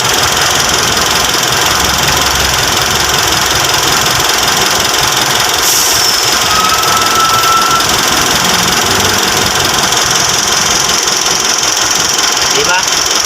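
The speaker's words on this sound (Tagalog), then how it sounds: "Lakas ng makina nito mga boss." A 2019 Mitsubishi Strada's engine, the same unit as in the 2010–2011 Montero, runs steadily with a close, buzzing, slightly knocking drone, while someone talks over it.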